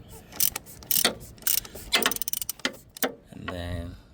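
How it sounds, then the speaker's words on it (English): Ratchet wrench loosening the oil filter housing on a Mercedes GLA250, a series of sharp clicking bursts and short ratcheting strokes close up, ending with a longer buzzing rattle. "So let me loosen the oil filter housing"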